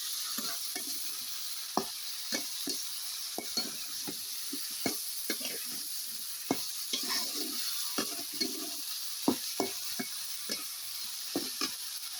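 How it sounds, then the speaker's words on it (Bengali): Food being stirred and sautéed in a frying pan, with a steady sizzle under irregular scraping and clinking strokes of a utensil against the pan throughout, close and moderately loud. "এটাকে এখন ভালোভাবে কষাবো।"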